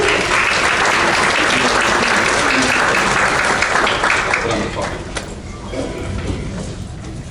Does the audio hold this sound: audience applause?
yes